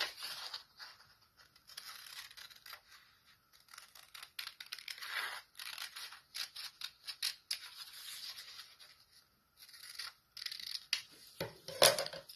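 Scissors snip through paper while cutting out pieces for a bookmark craft, a steady series of close, crisp cuts and rustles with short pauses between.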